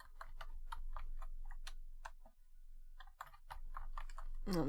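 Close, steady tapping on a computer keyboard, with a quick run of keystrokes, a brief pause, then another burst of typing. No one talks over it.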